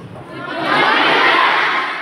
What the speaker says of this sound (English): With all your applause.